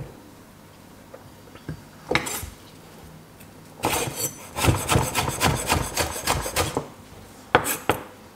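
A spoon scrapes out the soft middle of a piece of produce, heard as close, rough rasping strokes in quick bursts after a quiet start, loud and with no talk.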